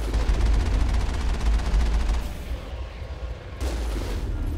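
Heavy weapons fire in Mass Effect 1 comes as a dense, roaring burst of rapid shots and booms. It eases briefly, then resumes loud and continuous.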